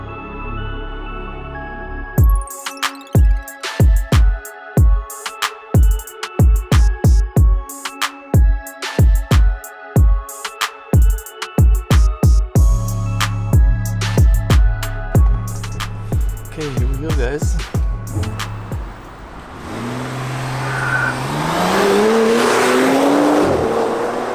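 A tuned 800 hp Bentley Bentayga SUV, lowered, revs and accelerates loudly up close in a run of sharp, rhythmic bursts, then settles into a long, rising roar with a whining pitch as it picks up speed.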